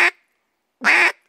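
Duck call blown in two short, clipped quack notes separated by a pause, the first very brief and the second longer and louder, sharp and close with nothing else audible.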